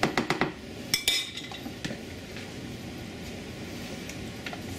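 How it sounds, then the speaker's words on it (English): Homemade butter being beaten from cream in a bowl, with a cluster of sharp clinks and taps of utensil against the bowl at the start, then scattered knocks over a steady low churning background. "we're going to keep beating until it separates better"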